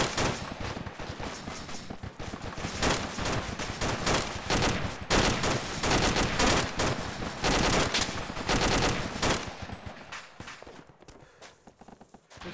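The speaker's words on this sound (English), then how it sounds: "Taking fire from the southwest 220" Dense, sustained gunfire in the video game Arma 2, with rapid machine-gun bursts and overlapping shots that run almost continuously before thinning out near the end.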